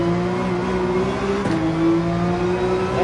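A GT3 race car engine in Gran Turismo 7 at Trial Mountain held at full throttle, a steady high whining drone with a brief dip and shift midway as the revs settle, loud and close with no talk.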